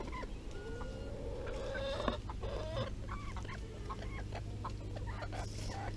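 Chickens clucking in a garden of pepper vine, yam and gherkin, several short calls at moderate distance over a dense, noisy outdoor background.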